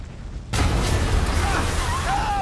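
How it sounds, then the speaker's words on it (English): A bomb goes off in the Marvel's Spider-Man (2018) video game, a sudden loud boom that breaks a near-silence and fades into a sustained rumble with scattered higher debris and whistling sounds. "I guess bombs are part of Willie's getaway plan?"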